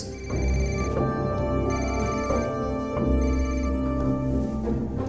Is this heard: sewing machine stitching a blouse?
no